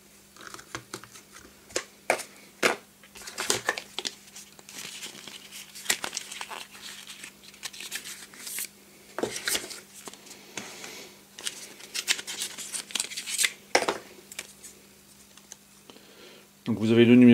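Screwdriver bit sets for a KKmoon electric screwdriver being unpacked, with scattered plastic clicks, crinkles and rustling of packaging at close range, and a voice briefly speaking at the end.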